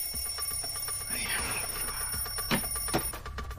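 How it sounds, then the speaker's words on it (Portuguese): An alarm clock rings in a Brazilian TV sitcom scene, a bright repeating electronic tone pattern heard close, with a few short knocks and rustles underneath. "É porque às 7 o despertador vai tocar."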